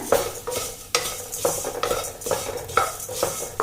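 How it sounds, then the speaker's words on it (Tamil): Flattened rice (aval) frying in hot ghee is stirred with a spoon in a pan, giving rhythmic scraping strokes about every half second over a soft steady sizzle. "1/2 கப்பு வெள்ளை அவல் எடுத்து வச்சுருக்கேன், அதை சேர்த்துக்கலாம். நெய்யில் நல்லா வதக்கிடுங்க."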